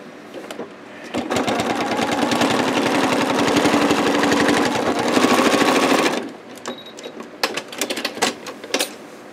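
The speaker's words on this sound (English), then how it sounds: "do a little bit more stitching" A sewing machine stitches thread into a beach landscape thread painting, running in one steady, loud, rapid burst for several seconds, then stopping, followed by scattered light handling clicks.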